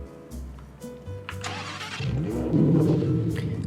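A car engine in a Roblox driving game cranks, catches, then settles into a low rising rumble as it revs, heard close and alone without talk.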